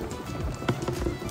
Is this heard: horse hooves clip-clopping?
yes